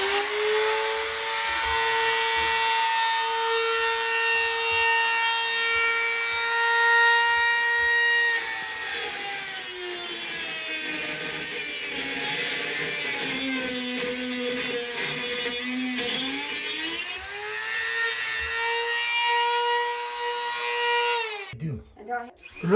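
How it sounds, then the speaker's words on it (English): A Dremel rotary tool whines steadily at high pitch while cutting long screws during a bathroom baseboard and toilet install, its pitch dipping under load midway and rising again before it stops abruptly near the end. "We're using a Dremel in this instance, but of course any brand of rotary tool will be a great addition to any toolbox."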